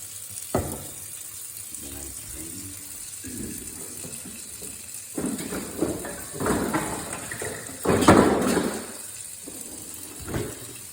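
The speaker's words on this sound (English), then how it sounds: "I put it underneath the hot water for a while" Hot water running from a kitchen tap over a semi-frozen package of food in a home kitchen, streaming in irregular bursts with splashing, loudest near the end, and a voice talks at times over the flow.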